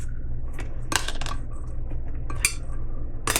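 Small metal camping cook pan and its nested parts taken out and handled, producing several bright clinks and rattles in separate bursts over a low steady hum, close and fairly loud.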